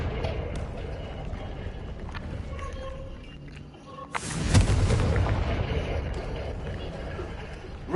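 A Confringo spell blast in Hogwarts Legacy: a sudden whooshing, fiery burst midway through that swells and lingers, rising out of steady game ambience and music.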